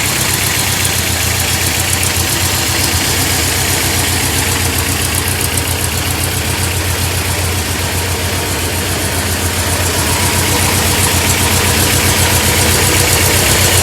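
The air-cooled engine of a 1965 VW Beetle idles close by, a loud, steady, even chugging rumble with a fast ticking rhythm that holds for the whole stretch, with no talking.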